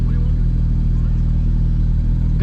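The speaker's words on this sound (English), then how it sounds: "You can hear all the transmission in the motor grinding." A Porsche GT3 RS engine and transmission grind at low speed, a loud, steady mechanical drone with a rough low pulsing clatter underneath, continuous and close throughout.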